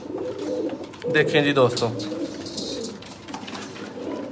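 Sialkoti pigeons coo in soft, throaty bursts close by while someone speaks over them.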